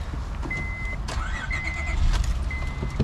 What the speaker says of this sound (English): I'm gonna start it up here while I got you.